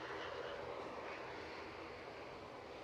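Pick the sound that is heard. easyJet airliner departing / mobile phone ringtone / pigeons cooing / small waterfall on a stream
easyJet airliner departing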